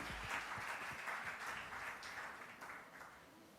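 Audience applause for the winner at a women's business award ceremony, a moderate continuous patter of clapping that slowly fades, heard from a distance in a large hall, with no voices over it.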